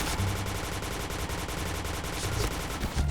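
An automatic gun in the shooter game Point Blank fires a fast, continuous burst of close, loud shots in an even rapid rhythm, with no talking over it.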